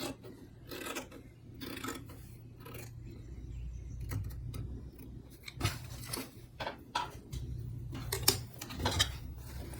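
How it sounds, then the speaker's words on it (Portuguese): Scissors trim fabric close to a seam while a patchwork tote bag is sewn, giving repeated crisp snips and rasping cuts in irregular bursts, close to the microphone, with brief quiet speech between cuts. "eu vou cortar rente aqui para ele ficar retinho"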